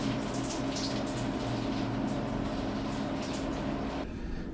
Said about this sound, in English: That is where we are going to be taking our shower this evening.